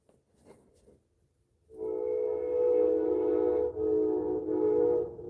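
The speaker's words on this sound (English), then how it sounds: "we're gonna have a train go by, so the sound is probably not gonna be very fun for a little bit" An Amtrak passenger train rolls past after a quiet start, its loud sustained rumble and tonal horn-like drone building suddenly and continuing to the end.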